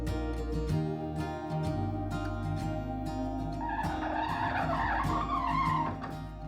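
Squeaky wheels on an old cedar chest being rolled across a floor, a harsh shrill squeal rising and wavering over rumbling and knocking, loud and close with no voices.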